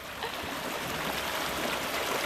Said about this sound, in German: ich fülle jetzt Wasser auf